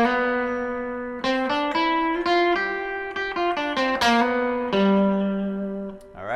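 Country lead guitar lick played up an octave, a quick run of bright plucked notes with hammer-ons and slides, ending on a held, ringing note; the guitar is close and alone.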